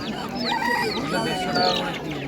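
Chickens and ducks at a busy poultry market, clucking and squawking in a steady jumble close by, with people talking over the birds.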